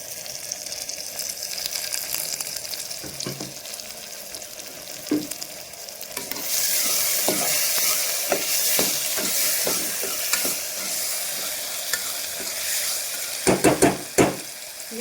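Tomatoes sizzling and frying in a pan for squid masala, a steady loud hiss that swells midway, with scattered spoon stirs and scrapes, no talking.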